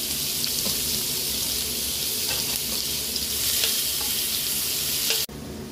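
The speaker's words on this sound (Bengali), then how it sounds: "এইবারে মাছ ভাজার তেলে আমি পেঁয়াজ ভেজে নেব।" Onions frying in oil left over from frying fish, a steady close sizzle and crackle with occasional stirring, cutting off abruptly near the end.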